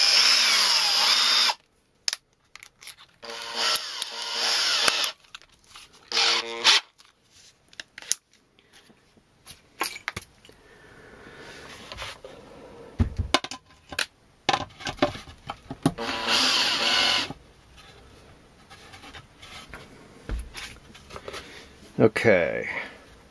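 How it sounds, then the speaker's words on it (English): Power drill fitted with a driver bit, working on a Warlord Titan model base, sounding in several short whirring bursts separated by pauses, with a person talking between them. "so now we get the drill bit out and we put the driver bit back in"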